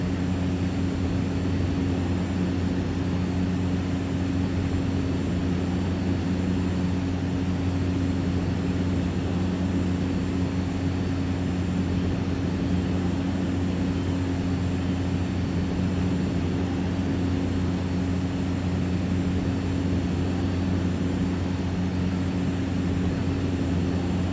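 Steady, continuous drone of a Cessna 208 Caravan turboprop engine in the X-Plane flight simulator, cruising with an unbroken hum and a low tonal buzz at constant loudness, with no talk.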